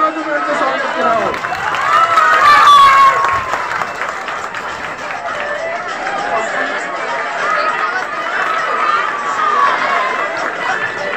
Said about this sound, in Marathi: जोराने टाळ्या वाजवून यांचं स्वागत करावं